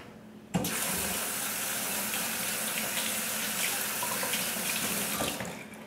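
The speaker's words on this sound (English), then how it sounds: "I like to rinse these brushes really good when I get through cleaning them" Makeup brushes rinsed under a running tap, a steady hissing splash of water that starts abruptly, holds evenly for several seconds, and cuts off at the end, with no talking.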